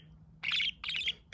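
Pet budgie chirping nearby, two quick bursts of bright, warbling chatter separated by a short pause, fairly soft and without talking.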